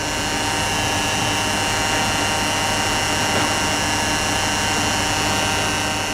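Diesel fuel pump running with a filter fitted and struggling to draw fuel, a loud, constant mechanical whine and hum that holds steady throughout with no pauses and no voices.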